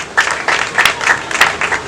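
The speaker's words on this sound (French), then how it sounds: "Vous pouvez un peu applaudir" Brief scattered clapping from a small crowd at a shop opening ceremony, uneven bursts of hands close by.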